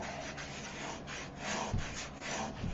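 Sandpaper rubs back and forth over gritty overspray on a model airplane in a series of soft, rasping strokes, close and fairly quiet, with no voices.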